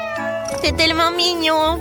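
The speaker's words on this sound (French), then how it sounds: "Oh non, mais c'est un chat." A cat meows close by in a few drawn-out, rising cries while someone talks over it.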